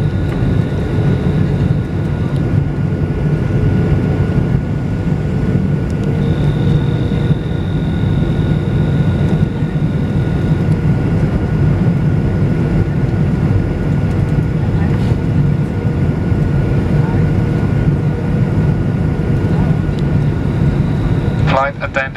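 Inside a Garuda Indonesia airliner cabin on the landing approach to Jakarta, a loud, steady engine and air drone runs throughout, ending with a short chime.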